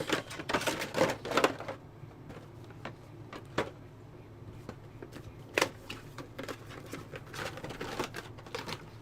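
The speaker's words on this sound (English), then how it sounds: "So we get rid of all this packaging that we don't need at the moment." Rustling and crinkling of packaging being pulled off and set aside while unboxing a Wansview G6 dual-band IP bulb camera, with irregular crisp bursts and soft handling noises throughout.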